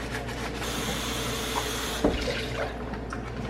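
Running tap water splashes steadily over a plastic tofu container as it is rinsed out in a sink, a continuous close hiss with a brief knock of plastic partway through.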